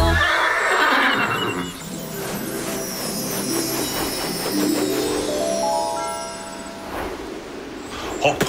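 A horse whinnies loudly near the start, followed by a long neigh and a rising and falling whinny, with music playing underneath.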